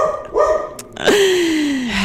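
A dog barks loudly and close by, a few sharp barks early on followed by a long drawn-out howling whine that slides slowly downward, with no one talking.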